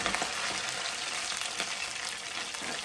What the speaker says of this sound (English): make sure you flip it away from you so that the grease won't splatter on you